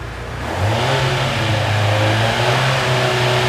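A 2019 Honda CB1000R motorcycle with its stock exhaust revs up from idle to a steady, loud, close engine drone that holds for about three seconds with no talking.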